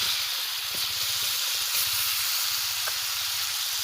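Ginger garlic paste hisses and sizzles in hot oil while potatoes and fish cook for a vegetable curry, a steady, close frying hiss running without break over a faint low hum.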